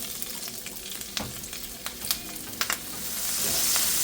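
Seasoned ground beef with onion, herbs and spices frying in a little oil, crackling sizzle punctuated by several clicking stirs, then the hiss rising louder and steadier near the end, no voices.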